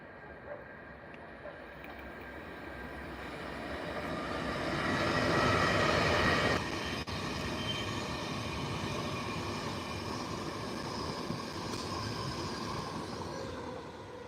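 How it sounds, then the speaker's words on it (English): A Pendolino high-speed train passes outdoors as a faint rushing roar that swells over several seconds, peaks, then holds as a steady distant rumble while the train goes by. "Here comes the Pendolino."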